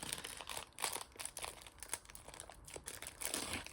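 A small plastic pouch from a cross-stitch embroidery kit crinkles and rustles close by as it is handled and opened, in quiet, irregular bursts of crackling.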